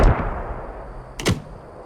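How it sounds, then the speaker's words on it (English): Mortar rounds landing in a tactical military video game: two distant impacts, one at the start and a sharper, louder crash just past the midpoint, with a low rumbling tail and quiet background between them. "Just try to see where those are landing"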